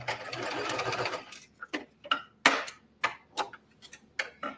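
Sewing machine stitching pajama pants fabric, heard as a steady whirring run that stops, then a few sparse clicks and taps as the fabric is pulled free from under the needles.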